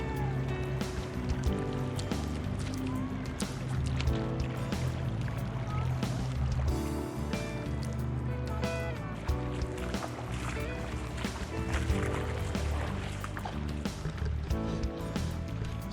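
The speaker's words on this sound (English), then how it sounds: "get the surge of the water" Creek water surges and rushes continuously near a waterfall hike close to the Great Sand Dunes, a dense, steady roar lasting throughout with faint voices mixed in.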